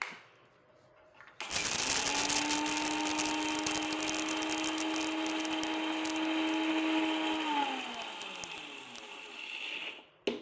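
A kitchen mixer coarsely grinds fenugreek seeds. After a quiet start it starts up suddenly and whirs loudly and steadily with a rattling, sustained tone for about eight seconds, then winds down and stops.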